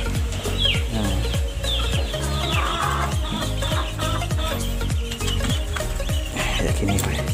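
Young junglefowl about two and a half months old kept in a temporary cage, giving a dense, loud chorus of repeated clucks and chirps from several birds close by, with no talking.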